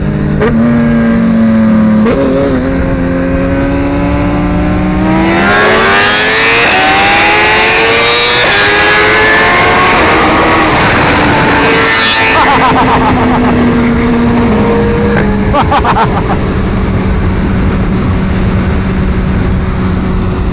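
A BMW M 1000 RR and a Suzuki Busa with a full carbon built motor race, their engines loud and close, rising in pitch through hard acceleration and then holding a sustained high-speed drone.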